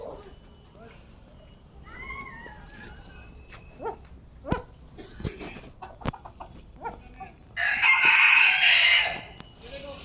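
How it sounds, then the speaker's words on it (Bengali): Jungle fowl at Nainital Zoo call and crow repeatedly from a short distance, mixed with other animal and bird sounds, while people talk nearby and a louder burst of noise comes near the end. "দেখো মুরগি আছে, সব বন মুরগি, আর এরা এত ডাকছে মনে হয় যেন সবে ভোর হয়েছে"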